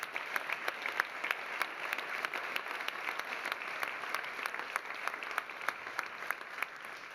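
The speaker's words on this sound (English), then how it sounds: "Please give them a round of applause." Summit attendees clap for event supporters in a hall, a steady mid-sized round of applause with crisp individual claps standing out, continuous for several seconds.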